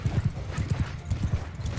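Horse hooves clip-clop in Mount & Blade II Bannerlord, a steady rhythmic run of paired low thuds repeating evenly and fairly loud, with no voices over them.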